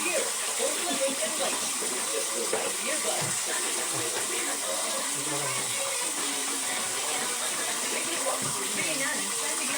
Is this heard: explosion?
no